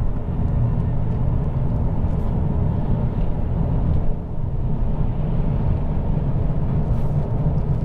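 A Lexus LS 430 accelerates past a bus with a steady low engine and road rumble heard from inside the car. The sound stays constant, with only a brief dip midway.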